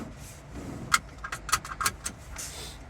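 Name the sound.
car keys jangling into the ignition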